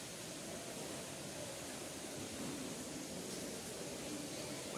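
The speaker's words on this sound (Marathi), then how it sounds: "वॉटरफॉल बघा" A waterfall near Ekvira temple, a dense, even roar of falling water that holds steady throughout with no breaks or voices.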